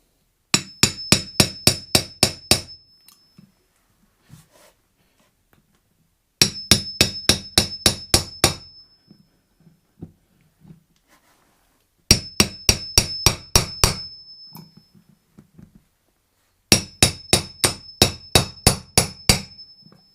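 Hammer blows pounding out a front wheel bearing on a riding mower, in four loud bursts of rapid, evenly spaced metallic strikes, about eight to ten per burst, with short quiet pauses between.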